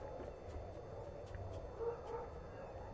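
Dog in the video game RuneScape gives soft, distant yips and small barks scattered through a low, steady background hum, faint rather than prominent.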